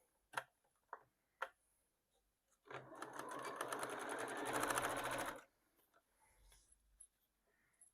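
A sewing machine stitches the panels of a Tula Pink pencil case in one steady run of about two and a half seconds, its rapid needle clatter close and clear, bracketed by a few sharp handling clicks and no talk.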